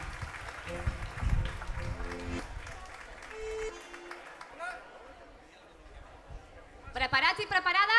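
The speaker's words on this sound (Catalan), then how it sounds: "un fort aplaudiment" Crowd at a town festival celebration claps and cheers, the applause mixing with chatter and a voice over a public address, fading midway before a louder burst of noise at the end.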